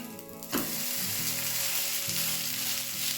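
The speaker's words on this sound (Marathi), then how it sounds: "नंतर आपण आता याला दुसऱ्या साईडने सुद्धा अशाच पद्धतीने भाजून घेणार आहोत." A fresh green pea pancake fries in oil in a pan, a steady close sizzle that continues without a break after a brief clatter at the start.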